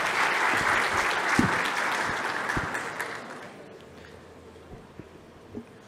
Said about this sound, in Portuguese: salve de palmas de novo pro Matheus